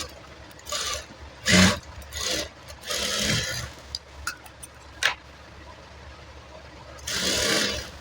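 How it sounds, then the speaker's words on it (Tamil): A sewing machine stitching a lined blouse runs in several short bursts of rapid mechanical whirring, separated by quieter pauses, with one longer run near the end. "இப்போ அதே எப்படி ஸ்டிச் பண்ணுமோ அதே மாதிரி இதையும் ஸ்டிச் பண்ணி எடுத்துக்கலாம்."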